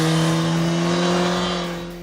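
A motorcycle with a GSX-R-derived engine revs loud and close, a strong sustained engine tone that holds steady and then eases off slightly toward the end, with no voices.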